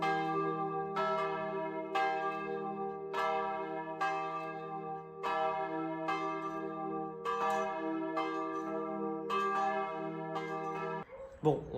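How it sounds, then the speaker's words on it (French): Two bronze church bells of Notre-Dame-de-la-Nativité in Molières, France, ring in steady repeated strokes roughly once a second, each strike clear and loud with long overlapping resonant hum. "ces 2 cloches ne peuvent pas sonner ensemble, parce que sinon elles se cognent"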